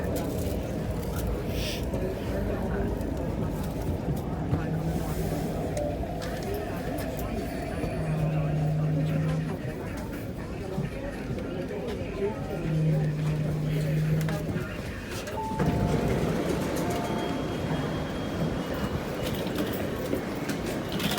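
An MTR Tuen Ma Line C-Train pulls out of Siu Hong station, with a steady broad rumble and a faint rising motor whine that comes and goes over about twenty seconds.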